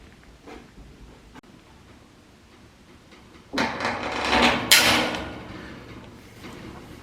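Hand snips bite through wavy corrugated metal roofing on a pole barn garage, giving a few quiet clicks, then a louder, rasping crunch of cutting lasting a couple of seconds close by, with no talk over it.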